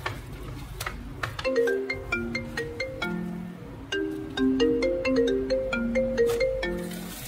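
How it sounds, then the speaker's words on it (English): A melodic phone ringtone plays a bright, repeating sequence of electronic tones, loud and close, with no voices. "Phone ringing."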